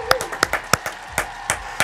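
A small studio audience claps for a guest at the close of a Spanish-language science talk show, giving a brief, sparse round of separate hand claps heard close up.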